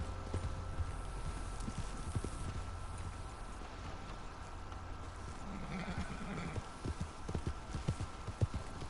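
Horse hooves clip-clopping at a steady gallop in Red Dead Redemption 2, with occasional whinnies, continuous and fairly close over a low ambient rumble.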